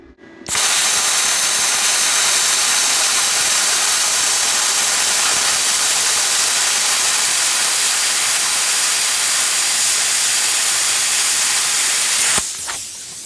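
A TOOLIOM TL-50C plasma cutter slices through 5/16-inch steel at about 35 amps, giving a loud, steady, close hiss that runs unbroken for around twelve seconds before cutting off abruptly.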